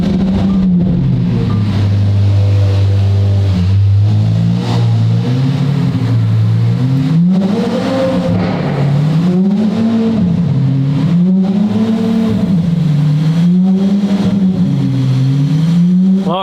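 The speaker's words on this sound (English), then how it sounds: "we're gonna start up the SVJ, put it in gear, and basically roll it" A Lamborghini Aventador SVJ engine runs in gear with the car raised on a lift and no load, its loud V12 note rising and falling in repeated smooth swells, close and continuous.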